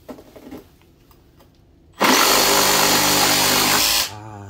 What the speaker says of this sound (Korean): 목재용 날을 꽂아서 목재를 한번 잘라보도록 하겠습니다.